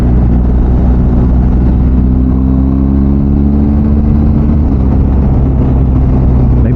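BMW R1250GS Adventure motorcycle engine while riding, a loud, close, continuous drone with a pitch that rises and falls as the throttle changes, masked partly by heavy wind rush.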